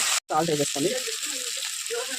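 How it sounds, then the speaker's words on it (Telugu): Chana dal, coriander and other ingredients for idli upma made from leftover idlis fry in a pan with a steady, close sizzle that runs under a voice, briefly cutting out near the start. "బాగా ఫ్రై అయిపోయినాయి."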